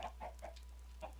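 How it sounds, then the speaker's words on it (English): Minecraft chickens cluck in a small cluster of soft, short calls spaced a fraction of a second apart inside a crowded chicken farm, over a steady low drone. "Wow, look at how many chickens are in there."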